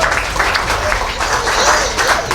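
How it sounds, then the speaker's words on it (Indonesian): An audience claps steadily in dense applause at a business seminar, a short loud burst of many hands filling the room. "Aplaus untuk PTBS."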